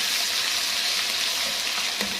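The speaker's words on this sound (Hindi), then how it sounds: "अब इसके अंदर मैं अदरक और लहसुन का पेस्ट शामिल करूँगी" Ginger garlic paste frying with beef in a pan, a steady close hiss and sizzle with faint stirring, no talk.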